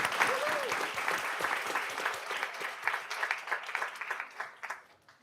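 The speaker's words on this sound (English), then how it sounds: "Let's give them one more round of applause." Sustained audience applause at a Ridgeview Elementary school board meeting, a dense crackle of many hands filling the room that tapers off near the end.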